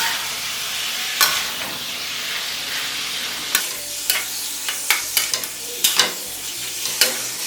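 Chicken being stir-fried and mixed in a hot pan with basil, a steady close sizzle broken by repeated scraping, clattering stirs of the spatula, with no talk.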